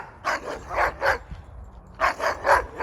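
A hunting laika barks angrily at a wolf-dog. It gives four sharp, loud barks close together, pauses briefly, then fires off another rapid cluster of barks nearby, with no talking.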